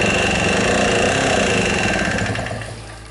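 A moped engine turned over by pedaling with the spark plug removed, without firing, makes a close, steady mechanical clatter and whir that slows and fades toward the end.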